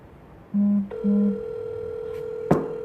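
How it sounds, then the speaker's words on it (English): An outgoing telephone call gives two short, even tones, then a long steady ringback tone. A sharp click near the end is followed by a faint continuing hum, with no voices. "Let me see if anyone picks up here first. It's ringing"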